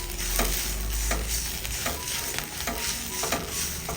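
Curry leaves and mustard seeds fry together in oil in a pan, giving a steady close sizzle with scattered crackles and pops and occasional stirring scrapes, with no talking.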